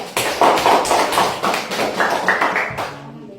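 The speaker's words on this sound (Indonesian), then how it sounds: "Coba beri tepuk tangan untuk Ede." Pupils in an Indonesian classroom give a classmate a round of applause, a busy, loud patter of many hands up close that thins out and stops near the end.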